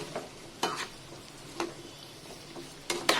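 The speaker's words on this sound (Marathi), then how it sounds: "अर्धी वाटी तेल घेतलं आणि त्याच्यामध्ये आपण हे आवड्याचे तुकडे पाच मिनटं" Amla pieces cooking in half a bowl of oil, a faint low sizzle punctuated by a few sharp scraping stirs against the pan at irregular intervals.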